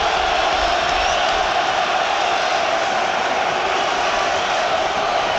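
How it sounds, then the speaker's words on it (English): A packed football crowd at an FA Cup third-round tie between West Ham United and Queens Park Rangers sends up a steady, dense roar that holds at an even level throughout without clear peaks. "And listen to the crowd. They're ready for one more go."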